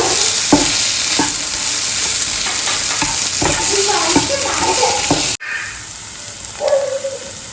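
Masala roasting in a pan on a home stove is stirred with a spoon, giving a continuous sizzle broken by regular scraping strokes, close and fairly loud, with a brief pause before stirring resumes.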